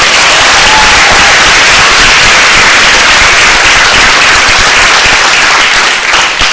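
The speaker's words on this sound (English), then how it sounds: "One more round of applause." Loud, sustained applause from a large crowd, dense continuous clapping that stays strong throughout and eases only slightly at the very end.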